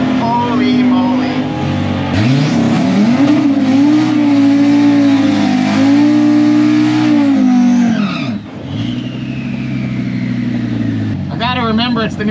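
An 800-horsepower Audi RS3 revs hard at a drag strip, engine pitch climbing and holding in a loud sustained roar with tire squeal from a burnout, then easing off before a brief final blip.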